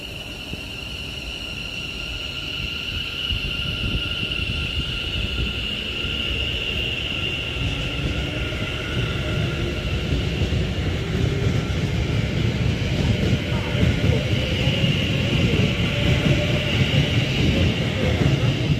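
A train pulling out of Birmingham International station on the West Coast Main Line, West Midlands: a steady rising rumble and whine that grows slowly louder over many seconds, with a high sustained tone, and no talk.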